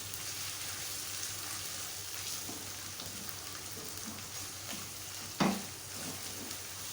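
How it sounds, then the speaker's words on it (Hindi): About a tablespoon of garlic ginger paste fries in a pan with a soft, even sizzle, heard up close, and one sharp clank of a utensil near the end; no one speaks. "लहसुन अदरक अच्छी तरह से फ्राई कर लें।"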